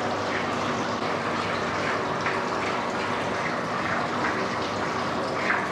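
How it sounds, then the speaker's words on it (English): A small waterfall trickles and splashes inside a resort's artificial skull cave, a steady, soft rushing of water with no talk over it. "It's a small waterfall."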